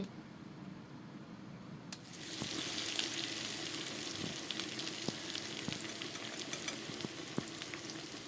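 Mutton and potatoes frying in a hot pan, a steady close sizzle that swells in abruptly partway through and then holds, dotted with small pops and crackles, with no talking.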